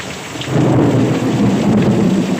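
A deep rumble of thunder rolls in over heavy, steady rain pouring down nearby, the roar swelling after a brief quieter start.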